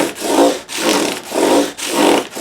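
Guitar frets are rubbed with a fine-grit sanding block, making four close, rhythmic back-and-forth rasping strokes with no talking.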